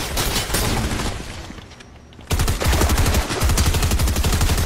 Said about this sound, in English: Oh, this is a turret.